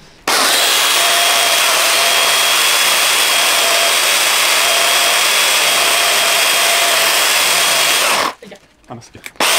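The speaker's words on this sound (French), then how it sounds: "on n'aura pas l'impression d'avoir amené la tronçonneuse pour rien" A chainsaw cuts during demolition and masonry work, a loud, steady, harsh engine roar that runs almost without a break for about eight seconds, then stops into a short burst of clattering debris.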